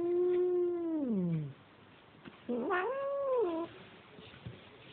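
A cat yowls loudly in two long, drawn-out wails, the pitch sliding downward at the end of each, with a short quiet gap between them.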